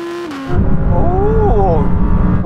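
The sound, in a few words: Audi R8 cars accelerating in a rolling drag race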